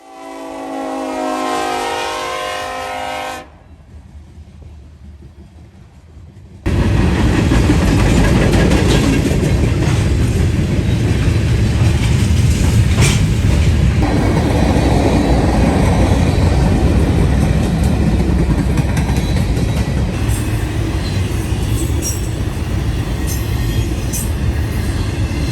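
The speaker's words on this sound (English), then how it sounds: "an S-178 led by an SD-70 Ace heads eastbound on the main" A Norfolk Southern freight train led by an SD70ACE locomotive heads east on the main line at London, Ohio, opening with a loud multi-tone horn blast, then a short lull before a heavy, steady rumble of passing cars that lasts about twenty seconds, close and loud.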